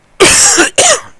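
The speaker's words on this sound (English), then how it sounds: "My God, I'm coughing." A person coughs twice in quick succession, with two loud, close, harsh bursts separated by a brief pause.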